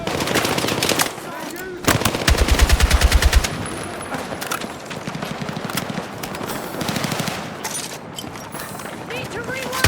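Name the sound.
machine gun fire in video game Battlefield 6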